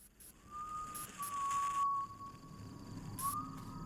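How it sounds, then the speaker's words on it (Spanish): Eerie drawn-out whistles echo through the horror game Fears to Fathom, a few long wavering tones with a rising glide near the end over a low ambient hiss, no voices. "Esos silbidos... raro."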